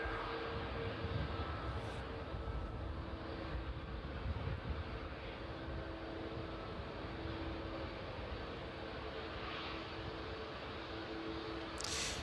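A Ryanair airliner arriving from Tenerife at East Midlands Airport in the evening produces a steady distant jet roar and rumble, fairly faint and even throughout with no talk.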